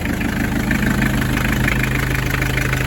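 Naturally aspirated 2.2 liter diesel engine in a 1982 Isuzu Pup pickup idles steadily up close, a low, even, knocking rumble with no voices.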